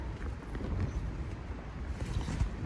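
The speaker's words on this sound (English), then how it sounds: "wind kicking up" Wind gusting by the Devils River at a kayak campsite, a steady low rumbling rush buffeting the microphone, constant and fairly loud with no voices.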